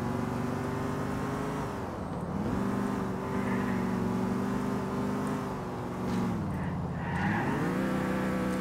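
Car engine in GTA 4, droning steadily near and loud, its pitch dipping and climbing again twice as the driver lifts off and accelerates through turns, with no talk over it.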